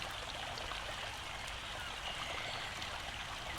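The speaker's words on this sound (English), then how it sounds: "the gentle murmur of the water accompanying your footsteps" A river flows with a gentle, steady murmur of water, a continuous soft wash heard alone at low level, with no voices.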